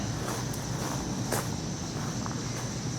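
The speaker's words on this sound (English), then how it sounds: "Walking fairly quickly" Quick footsteps tap and scuff at a brisk pace over a constant humming background, light and close.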